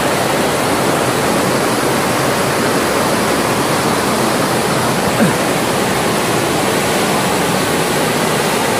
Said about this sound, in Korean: 저 앞에는 폭포입니다